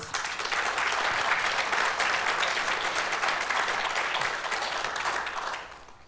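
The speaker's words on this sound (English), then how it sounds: "Please give them a round of applause." An audience at a political hustings applauding steadily for several seconds, a dense wash of clapping that fades out toward the end.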